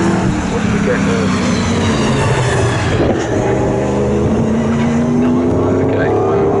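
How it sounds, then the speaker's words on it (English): GT race cars scream along the Snetterton circuit in qualifying, their loud engines droning and shifting in pitch as they pass close by. A commentator talks over the noise. "that shows you just how quick those GT cars are"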